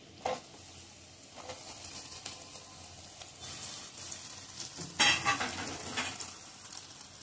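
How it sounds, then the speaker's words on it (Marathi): Tomatoes go into softened onions frying in a pan for mixed veg masala bhaji, giving a quiet sizzle with a few scattered stirring scrapes and a brief louder burst midway, no talking. "कांदा थोडा नरम झाल्यानंतर आपण त्याच्यात टोमॅटो टाकूया."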